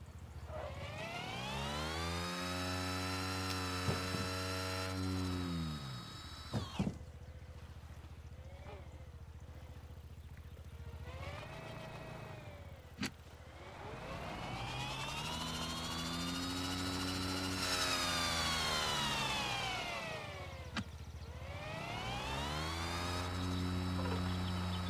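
Engines in the Screw Drivers video game run loud and steady, rising and falling in pitch through several long revving sweeps with harmonic whine, pausing briefly between runs; no talking.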